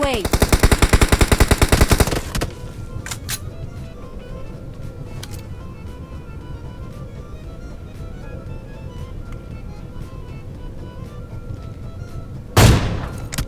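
Rapid automatic gunfire from PUBG Mobile rattles loudly for about two seconds, followed by scattered distant shots over a low steady hum and one final sharp burst near the end.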